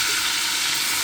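Onions hitting hot oil in a hot wok give a steady, close sizzle with dense crackle and a continuous hiss, holding even throughout.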